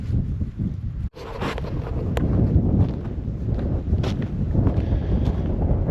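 Steady wind gusting over a desert camp on a cloudy, cold afternoon, a continuous rough buffeting rush with one abrupt brief dropout near the start, loud and close to the microphone.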